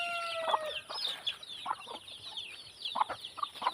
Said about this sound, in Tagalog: mapapansin nyo po mga kaparmers, and may mga sisiw sila, pati po yung pato mayroon na din pong sisiw